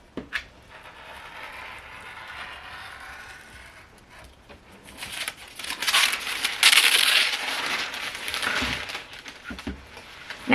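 Scissors snip and slice through a paper sewing pattern along a freshly drawn line, soft crisp cuts building to louder rustling crunches, close up with no talking.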